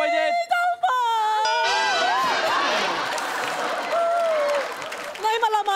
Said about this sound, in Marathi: तर एकदा जोरदार टाळ्या व्हायला पाहिजे